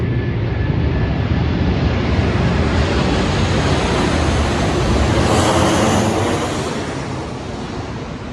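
An aeroplane passes overhead near a railway station as a loud, broad, steady roar that fills the clip and then begins to fade toward the end.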